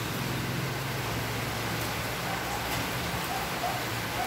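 Rain falls steadily in Cainta, Rizal, a dense, even hiss of drops on surfaces that holds at the same level throughout, with no voices.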